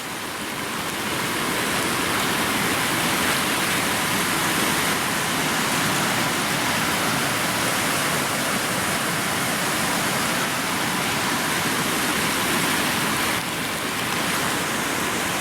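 Water rushes steadily through a roadside trough, a dense, loud, unbroken wash of flow that holds constant from start to finish with no voices.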